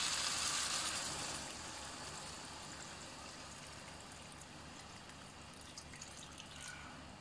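Water pours steadily into a pot of bulgur with chicken, a faint continuous splashing wash that eases slightly after the first second and runs on alone.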